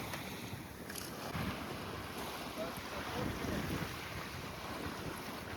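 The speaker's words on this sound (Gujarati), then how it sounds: "આપણને જે બોટ મૂકવા આવી હતી ને હવે પાછી જતી રહેશે" A boat pulls away from an island in the open ocean, its motor faint beneath steady wind buffeting and the wash of waves, with no voices.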